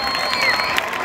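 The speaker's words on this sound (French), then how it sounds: "Applaudissez très fort" Applause at an excellence celebration at a bilingual high school in Kribi, a steady wash of clapping and crowd noise with faint voices mixed in, fairly distant and continuous.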